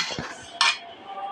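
A lid is set onto a cooking pot with a single sharp metallic clink, close and brief, against a quiet kitchen background.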